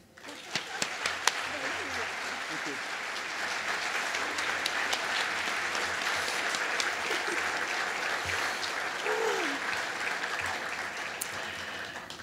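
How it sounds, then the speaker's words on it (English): An evening award ceremony crowd gives a long, sustained round of applause for the honoree, steady and fairly full, with a few sharp claps standing out at first and faint voices mixed in underneath. "please join me in a round of applause for our honoree tonight"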